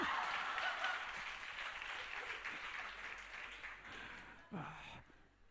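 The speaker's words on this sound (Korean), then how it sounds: "박수." A church youth worship congregation claps in a sustained round of applause that slowly tapers, ending with a brief voice.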